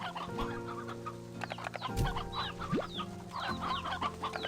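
Chickens on a farm in the Slime Rancher 2 video game cluck and squawk steadily over a droning game background, with a few sharp calls standing out close by.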